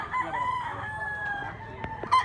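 A white-legged bullstag rooster crows once, close and loud, the call sustained across the clip with a brief louder flourish near the end.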